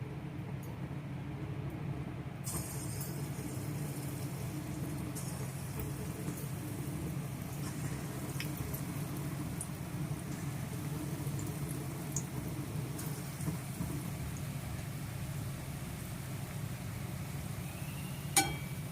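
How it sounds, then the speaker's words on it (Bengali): Palm fritters frying in hot mustard oil, a steady soft sizzle and bubbling that continues throughout, with a few faint clinks of a utensil and one brief sharp tap near the end. "সর্ষের তেলটা গরম করতে দিয়ে দিয়েছি গরম হয়ে গেছে এবার আমি তালে ফুলুরিগুলো ছাড়বো"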